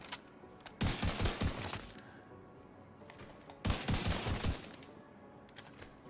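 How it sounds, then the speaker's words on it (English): In The Division 2 video game, rifle fire comes in two loud bursts of rapid shots a few seconds apart, with quieter gaps between them and no talking. "I kind of miss playing with this rifle."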